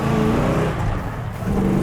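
A Plymouth Road Runner with a 440 six-barrel V8 roars close by, its deep engine note surging and easing in a short, loud rev with a throaty rumble.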